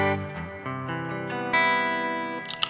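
Electric guitar played through a NUX amp on an ambient effects scene, a few sustained chords ringing out with shimmering echo and reverb trails, ending in a bright burst of noise, with no talk.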